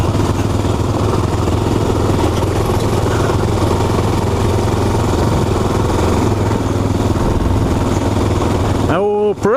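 Aprilia motorcycle with stock tires running steadily over a loose rock trail and hills, a loud continuous engine drone with clattering and rumble throughout, cutting off abruptly near the end.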